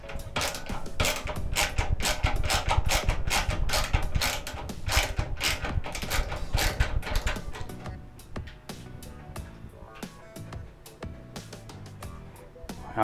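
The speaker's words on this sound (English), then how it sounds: "We'll get our Torx bit here. And we'll just see how tight they really are here." A Torx bit works tight screws out of an old broken RCA microwave, giving a run of rapid clicking, ratcheting mechanical taps that thin into sparser clicks toward the end.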